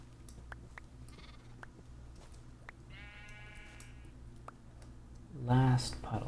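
Sheep in a video game let out a few bleats, a faint one early and a loud, close bleat near the end, over a low background hum and scattered clicks.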